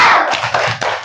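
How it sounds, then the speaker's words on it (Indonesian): Inside an Islamic primary school (madrasah) classroom, pupils do a 'tepuk semangat' spirit clap, a short rhythmic pattern of a few quick claps sounding close and bright. "Ayo kita tepuk semangat dulu untuk menambah semangat kalian belajar."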